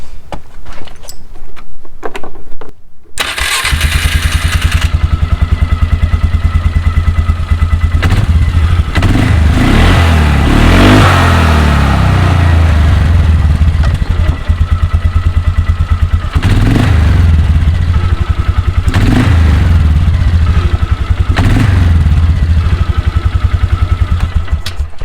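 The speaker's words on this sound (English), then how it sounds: "I'm going to start up the machine one more time with the cover on" A Polaris Sportsman 400 ATV engine cranks and starts after a few seconds of clatter, then runs steadily and loud up close with its belt cover back on, the revs rising and falling several times.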